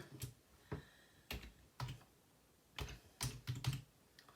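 Typing on a computer keyboard, close and quiet: a handful of separate key clicks in an uneven rhythm, ending with a quick cluster of presses, no voices.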